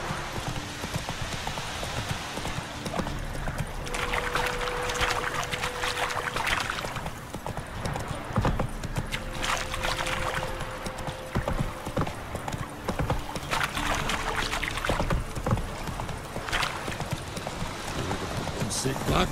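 Horse hooves clip-clop steadily through a stretch of The Witcher 3: Wild Hunt, with a brief whinny, game ambience and some talk over the hoofbeats.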